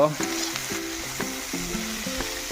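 Chicken kasha frying in a pan with onions, a steady sizzle under repeated clinks and scrapes of a spoon stirring against the metal vessel, close and fairly quiet.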